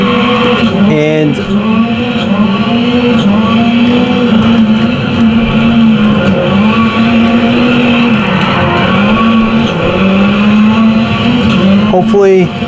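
A rally car engine drones loudly and steadily in Dirt Rally Rally X, its pitch rising and falling with gear changes throughout, with a voice talking over it.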